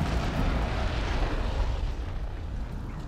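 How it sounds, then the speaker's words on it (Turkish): A nuclear bomb detonation in a Helm's Deep battle video game, with 20,000 orcs and 2,000 ogres against humans and dwarves, produces a sustained, loud, deep roaring rumble that fills the whole stretch and eases off only slightly toward the end. "Bu nükleer bombalar"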